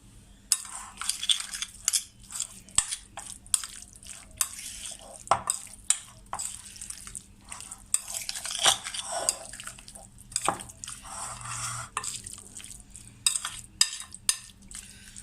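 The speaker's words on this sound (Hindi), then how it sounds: "मैं इसको अच्छी तरह चम्मच की मदद से इसको मिक्स कर दूँगी।" A spoon stirs chicken tikka marinade in a bowl, giving steady scraping and clinking against the dish, with frequent small knocks and wet squelches throughout, close and moderately loud, no talking.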